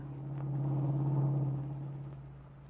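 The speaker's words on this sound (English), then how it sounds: "driving the car through the heavy city traffic" Radio drama sound effect from a 1940s old-time radio show of a car driving through heavy city traffic: a steady low engine rumble that swells and eases slightly, fairly faint and continuous.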